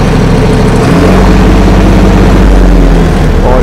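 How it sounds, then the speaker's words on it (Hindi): A 2023 Swaraj 963 FE CRDI tractor engine runs steadily at idle, a loud low rumble with a constant throb and no voices throughout. "इस ट्रैक्टर का साउंड है जो आपको सुनवा देता हूँ"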